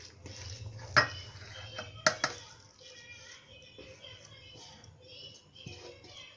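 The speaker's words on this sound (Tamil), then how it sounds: "இப்போ இதை வேறு பவுலில் ட்ரான்ஸ்ஃபர் பண்ணுறேன்." Food for atho is moved into another bowl, with a few sharp clinks of a utensil on dishware and softer scraping and handling sounds between them at close range.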